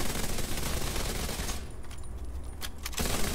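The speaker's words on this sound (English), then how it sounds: "Now we will use sustained fire. Continually and sustained." Continuous automatic weapon fire from The Division 2, a rapid, steady stream of shots that runs nearly unbroken, briefly thinning before the loud burst resumes.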